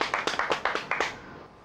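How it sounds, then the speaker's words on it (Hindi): A small group claps in a Hindi TV serial scene, about seven sharp, evenly spaced claps in quick succession that fade at the end. "तालियां।"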